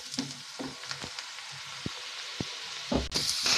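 Finely chopped onions fry in a pan with a soft, continuous sizzle, broken by intermittent stirring scrapes and clicks, close and fairly quiet, with a brighter burst of hissing near the end.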